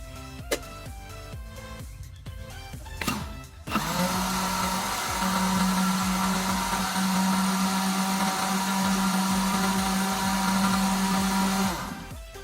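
A blender mixes yogurt and heated milk: after some clinking and handling, the motor kicks in with a loud, steady whirring roar that runs for about eight seconds before cutting off.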